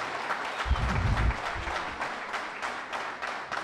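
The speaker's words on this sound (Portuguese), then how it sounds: "obrigado pelos seus aplausos" An audience applauds after a Dança de Artesia performance on Terceira. Steady, continuous clapping from many hands fills the room, rising slightly in the middle and staying even to the end.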